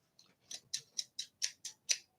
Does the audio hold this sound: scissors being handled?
yes